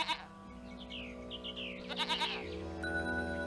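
Goats bleating in a devotional film scene set in a forest pasture with cows, several wavering calls rising over steady background music.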